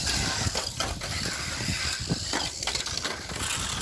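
A Tamiya mini 4WD toy car running on a plastic track with a tabletop jump and banked curves, giving a high whirring buzz with repeated clacks and rattles as it hits the walls and joints, close and continuous.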